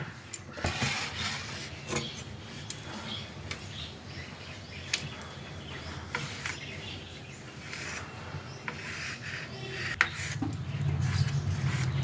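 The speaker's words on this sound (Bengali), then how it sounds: "আমি মাশরুমটা আগে কেটে নেব" Knife cutting mushrooms on a board in a home kitchen, a run of sharp irregular taps and clicks over a faint background, with a few louder knocks near the end.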